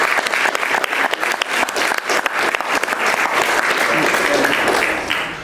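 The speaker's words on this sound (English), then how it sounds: "Give them a round of applause." Sustained applause from an audience at a Boy Scout troop court of honor, dense and steady throughout with no voices over it.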